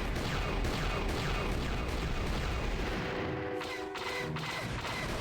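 Turret gunfire in a Star Wars video game: a dense, continuous barrage of rapid blasts and rumbling booms, steady and moderately loud, with no voice over it.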